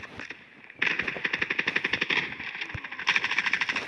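Rapid automatic gunfire in the mobile shooter Standoff 2, a fast rattling burst of shots that pauses briefly and then resumes, fairly loud and close.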